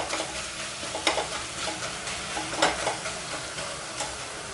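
Tomatoes sauté and get mashed with a ladle in a pan for kollu rasam, a steady close sizzle broken by sharp scraping and tapping strokes of the spoon against the pan, no talking.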